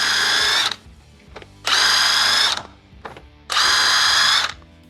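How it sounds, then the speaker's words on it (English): Three loud, close bursts of a hand-held buzz gun (air drill) spinning a Scotch-Brite abrasive pad to clean the studs and hub surface of a car wheel, each burst lasting under a second with short quiet gaps. "We'll use the buzz gun that we've used to take off the wheels"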